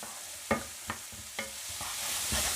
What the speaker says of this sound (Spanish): voy a dejar que se rehogue un poquito la cebolla